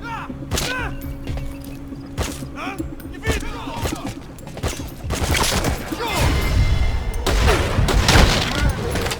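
Gunfire in the video game Metal Gear Solid V: The Phantom Pain, repeated sharp shots and thuds in irregular bursts, growing denser toward the end, mixed with game ambience and brief voices.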